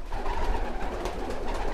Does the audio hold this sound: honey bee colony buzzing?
no